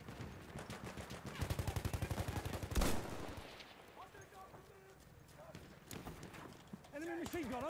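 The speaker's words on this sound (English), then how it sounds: "Enemy machine gun over there!" Machine gun fire in the video game Battlefield V, a rapid, loud burst of shots followed by a heavy blast, then quieter battlefield noise with voices talking over it.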